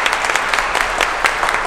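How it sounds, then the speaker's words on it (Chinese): Applause for champions at an awards ceremony after a school competition, steady dense clapping filling the space with a few sharper peaks, no voices over it. "再次把掌声献给我们所有的冠军们"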